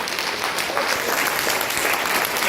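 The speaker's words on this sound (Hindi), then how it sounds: "जबरदस्त सर के लिए जोरदार तालियां।" Loud, continuous applause from an audience honoring a guest speaker at a business talk, dense and even clapping filling the room without a break.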